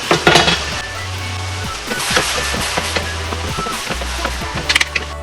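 Tomatoes bubbling in a pot on the stove for a pasta al forno sauce, giving a steady close sizzle and bubbling hiss with low stove hum and a few sharp clinks and taps, no talk.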